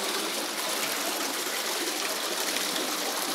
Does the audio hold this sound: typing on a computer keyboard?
no